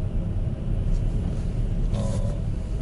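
Car engine lugging at low revs, around 1000 rpm in second gear while driving slowly, a steady deep rumble filling the cabin with no change in pitch.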